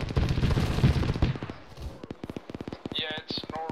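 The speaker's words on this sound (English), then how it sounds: "Sounds like auto cannon incoming." Autocannon fire in a military shooter video game: a loud, mixed stretch of noise gives way to a fast, regular string of sharp shots that carries on to the end.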